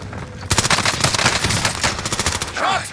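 Rapid bursts of automatic gunfire from a Call of Duty: Warzone match on Rebirth Island, loud and close, rattling almost continuously after a brief quieter opening.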